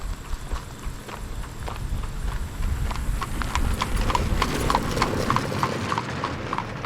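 Hooves clip-clop steadily on hard ground, several horses walking at an even pace, fairly close, with no talk, at Eisenhower State Park by Melvern Lake.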